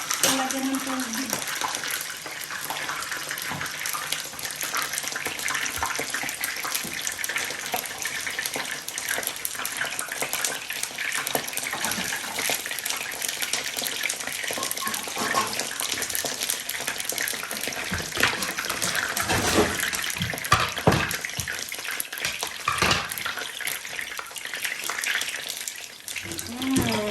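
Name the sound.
running tap water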